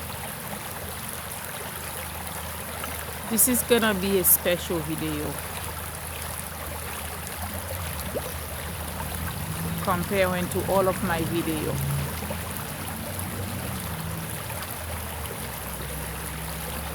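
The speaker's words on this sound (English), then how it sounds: "If you guys hear in the background, I usually go to the Scalzi Park by the Mill River water" The Mill River at Scalzi Park flows as a steady, soft background rush of water. Someone talks over it in two short stretches.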